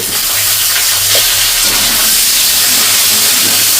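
Potatoes sizzle loudly in hot oil in a pan for a mushroom curry, a dense, continuous frying hiss that stays close and steady throughout.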